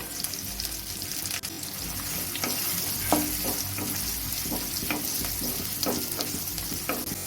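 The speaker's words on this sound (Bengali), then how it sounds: "রসুনের কাঁচা গন্ধটা চলে যাওয়া অবধি একটু ভাজা করে নেব" Garlic sizzles steadily in a hot pan up close, with green chillies and coconut, and occasional scrapes and taps of a spatula stirring through the frying.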